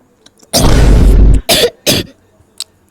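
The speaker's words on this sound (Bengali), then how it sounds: "দেখছো কাশি হয়েছে" A person coughs loudly and close by: one long harsh rasping cough followed by two shorter bursts, then a faint catch of breath.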